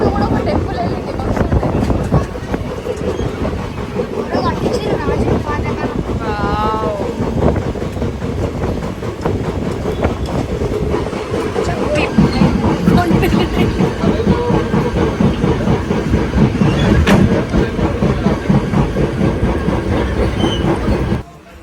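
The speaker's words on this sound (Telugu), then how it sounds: "సో ఫైనల్గానైతే వెయిట్ చేయగా మా ట్రైన్ వచ్చేసింది." A passenger train pulls into a station in India, its steady rolling rumble and clattering wheels loud and continuous with wind buffeting, a brief horn-like tone, and voices talking nearby.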